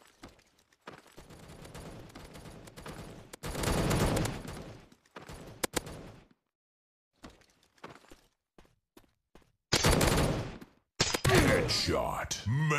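Gunfire in a first-person shooter, fired in bursts and single cracks separated by short silent gaps, loud and close, with a game announcer voice calling out kills between the shots.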